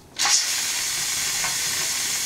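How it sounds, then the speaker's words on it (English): Once the weight is lifted, a pressure canner full of black beans vents steam in a sudden loud hiss that settles into a steady, close rushing sound, with no voices. "Now it'll exhaust the rest of the steam, and it'll be all done."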